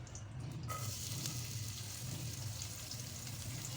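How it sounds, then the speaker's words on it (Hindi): Chopped garlic sizzling in oil in a home kitchen pan while making chicken macaroni, a soft, steady frying hiss that stays faint and even throughout. "और इसमें मैं ये लहसुन डालूँगी"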